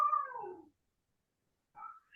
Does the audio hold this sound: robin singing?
no